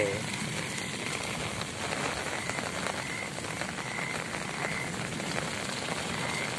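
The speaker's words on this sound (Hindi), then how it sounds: "बारिश को देख रहे हैं आसमान से" Rain falling from an open sky, a soft continuous hiss of drops with faint patter, steady and fairly quiet, with no voices.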